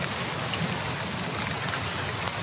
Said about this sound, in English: You adding rain sound effects?